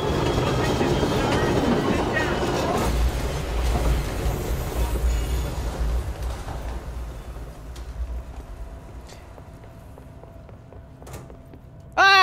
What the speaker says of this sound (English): And then we got the train crash.